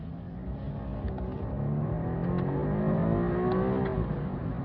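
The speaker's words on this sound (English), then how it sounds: "So let's go in, fire up the engine here." A 2025 Volvo V60 T8 Polestar engine idles steadily with a low, even hum that swells slightly, heard close and alone without talk.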